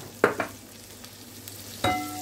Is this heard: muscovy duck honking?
no